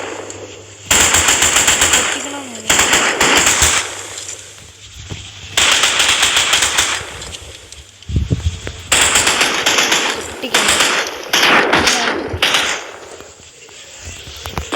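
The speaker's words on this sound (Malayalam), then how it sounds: "ഇവിടെ തോക്ക് ഇത് വെച്ച് നമുക്ക് വെടിയിക്കാം" Gunfire in the horror game Choo Choo Charles, repeated loud bursts of rapid automatic shots broken by short pauses, with a faint voice in the gaps.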